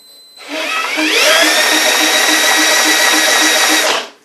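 A power drill spins the Tecumseh engine of a Toro Recycler lawn mower with no spark, spinning up and whirring steadily at high speed for a few seconds, loud and close, then winding down.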